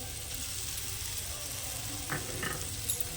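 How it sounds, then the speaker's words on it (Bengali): Fish oil poured over fried spices with turmeric in a pan gives a soft, steady sizzle, fairly faint and close, with a couple of brief stirring scrapes near the end and no speech. "দেখুন মশলাটা ভাজা হয়ে গেছে এবার আমি এর মধ্যে দিয়ে দেব মাছের তেল"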